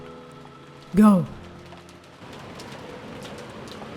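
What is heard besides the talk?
rain in the visual novel game Umineko When They Cry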